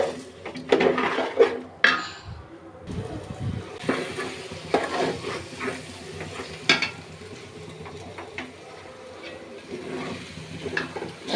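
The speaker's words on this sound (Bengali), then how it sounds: "এবার ভালোভাবে এই মাংসের সাথে পোলাওয়ের চালগুলো ভেজে নেব।" Polao rice frying with beef in a pot, a spoon scraping and clanking against the metal in irregular strokes over a low sizzle, with no voices.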